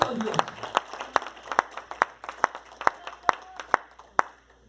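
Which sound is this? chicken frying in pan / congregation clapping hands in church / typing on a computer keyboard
congregation clapping hands in church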